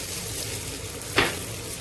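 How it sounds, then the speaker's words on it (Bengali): Potato fries in a pan with poppy seeds and egg, a close, steady sizzle with one sharp scrape of stirring partway through, and no talking. "আলুটা একটু ভেজে নিতে হবে ভালো করে পোস্তটা দিয়ে"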